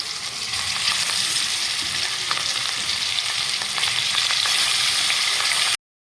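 Rui fish pieces rubbed with turmeric and salt frying in hot oil in a wok, a loud steady hiss and crackle running continuously, then cutting off abruptly.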